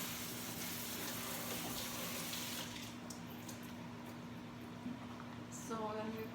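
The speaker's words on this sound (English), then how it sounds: "And rinse with hot water." Hot water gushes steadily from a tap to rinse a Whirlpool dishwasher part in a sink, with a continuous splashing flow close to the microphone.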